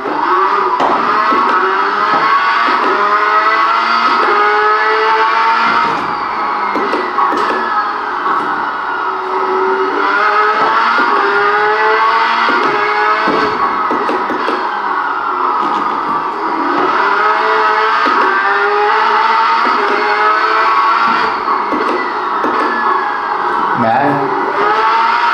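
A racing car engine in a sim racing game, played on a pedal rig, rises in pitch through the gears, then drops back in repeated cycles as a loud, continuous drone.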